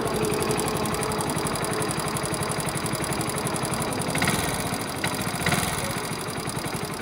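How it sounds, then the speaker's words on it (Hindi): Motorcycle engine running after use on ethanol fuel, idling with a steady, buzzing mechanical rattle and fast, even vibration, heard close and alone throughout. "पूरी बाइक में ऐसे झंझनाहट की सी आवाज आने लग गई है।"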